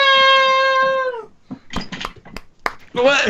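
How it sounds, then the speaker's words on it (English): A cat gives a long, sustained meow at the start, then a few shorter meowing calls amid clicks and brief noises, ending with another rising meow. "A beautiful performance by Cartooner's cat to intro us"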